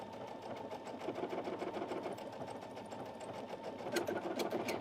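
A sewing machine runs a decorative stitch through two layers of fabric, giving a steady, close, continuous mechanical whir with a fast stitching rhythm for about five seconds and no talking.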